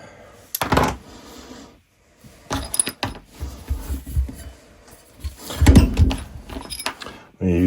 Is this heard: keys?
yes